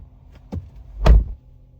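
The door of a 2025 Genesis GV80 Coupe 3.5T closing: two light clicks, then one solid, close thunk, with nothing else around it.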